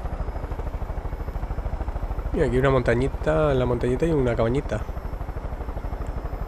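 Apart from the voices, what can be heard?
helicopter flying in video game Far Cry 5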